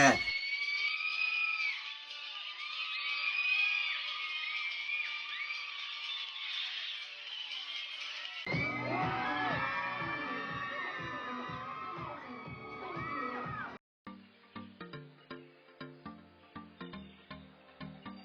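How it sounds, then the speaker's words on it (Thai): A large crowd at a pop-up fashion show in Siam Square One, Bangkok, screams and cheers in high, overlapping shrieks, loud and sustained, with rhythmic clapping or chanting joining partway through. "เรียกเสียงกรี๊ดสนั่น"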